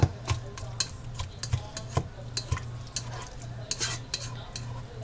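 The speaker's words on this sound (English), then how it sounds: "So we're just going to let this simmer and do its thing." Ground beef seasoned with mustard simmers quietly in a pan, a faint bubbling sizzle broken by repeated light scrapes and clicks of a stirring utensil, with no speech.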